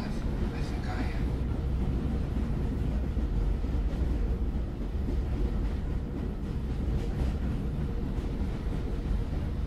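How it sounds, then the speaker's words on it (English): A running train gives off a steady low rumble and rattle throughout, with faint voices mixed in. "The train is stopping soon."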